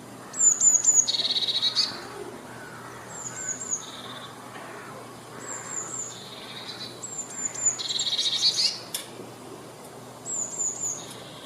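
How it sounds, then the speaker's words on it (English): A blue tit perched on a fence outdoors gives short, high, repeated chirping calls in scattered bursts, with a faint background hiss between them. "on that fence is a blue tit"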